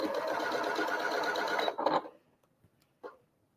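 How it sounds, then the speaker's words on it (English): A sewing machine stitches a quarter-inch seam on a pieced quilt block in one continuous close run that stops abruptly, followed by a couple of faint handling clicks. "you're going to sew right along that edge"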